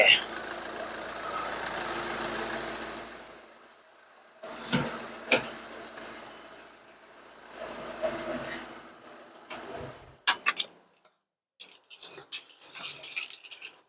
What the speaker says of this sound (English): More turbo sounds.